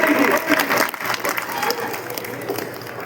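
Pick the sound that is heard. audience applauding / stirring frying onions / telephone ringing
audience applauding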